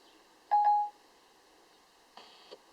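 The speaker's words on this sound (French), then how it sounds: "J'appelle Alexandre sur son téléphone portable." An iPhone 4S running the iOS 6 beta dials a call started by Siri: a clear electronic tone burst, then a pause and two fainter, shorter beeps over near silence.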